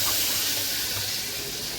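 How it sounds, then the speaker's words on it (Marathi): Dal tempering poured into hot oil in a home kitchen, giving a steady, loud, close hiss and sizzle that holds evenly throughout with no talking. "हे डाळची फोडणी दिली, आता तिला घालायचं तेलात."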